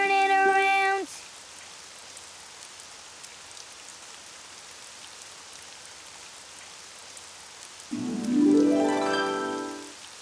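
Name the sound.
rain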